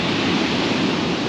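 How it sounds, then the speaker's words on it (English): Waves breaking on the shingle of Chesil Beach at Abbotsbury on a windy November day, a steady loud broadband roar of surf and wind that fills the whole moment without any break. "that might have been the waves there"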